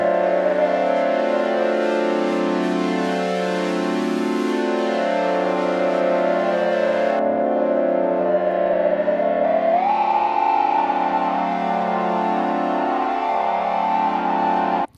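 A sustained Access Virus synthesizer tone with saturation distortion, its timbre turning harsher and grittier partway through as saturation increases, with echoing repeats. It plays alone and steadily throughout.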